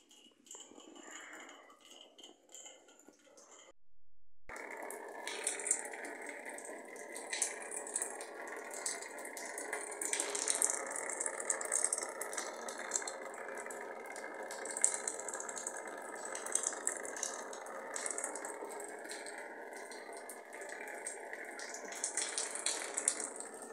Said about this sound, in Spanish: Está lloviendo dentro de mi casa.